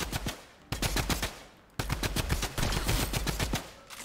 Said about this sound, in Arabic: صوت طلق يا عيال